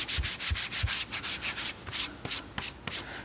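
Sandpaper rubbing across an Alcantara interior panel of a Corvette, close up, in quick repeated back-and-forth strokes, each a short dry scratchy hiss with soft low bumps at the start.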